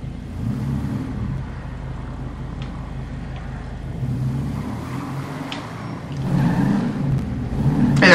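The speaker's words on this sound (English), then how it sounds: "I do like the audio for the vehicles in this game." A car engine in a video game, a car that has had work done, drives with a steady low rumble and whir, swelling louder toward the end as it speeds up.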